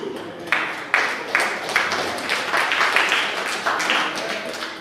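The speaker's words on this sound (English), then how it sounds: "I know my folks are clapping in mockery." Church congregation clapping in a steady rhythmic beat during a sermon, sharp repeated claps about twice per second, fairly close and moderately loud, with a voice talking over them.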